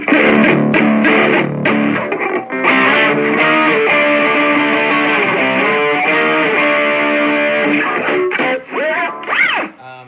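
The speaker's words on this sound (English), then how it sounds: "it sounds pretty good for a mini amp that has 3-inch speakers in it" Distorted electric guitar playing continuously through a Blackstar Fly 3 battery-powered mini amp with 3-inch speakers, chords and sustained notes with a slightly boxy, compressed tone, loud and close.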